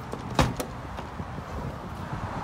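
Someone tries the locked door of an abandoned store: one sharp rattling clunk, a quick second knock, then faint outdoor background with small scuffs.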